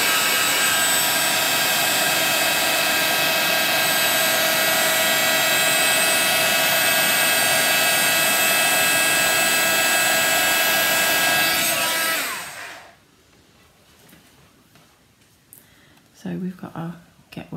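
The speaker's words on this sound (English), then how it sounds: "So we're heating embossing onto the vellum." A heat embossing tool blows hot air onto vellum in a papercraft project, a loud steady whooshing roar lasting about twelve seconds before cutting off to quiet with a few small handling sounds.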